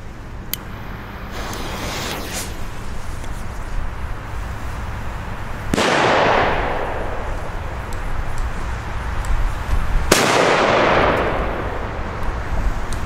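A Blitzkartusche Cobra 1 firecracker, a P1-category German banger, bursting outdoors in two loud, sharp blasts several seconds apart, each trailing off in a long rolling echo over steady background noise.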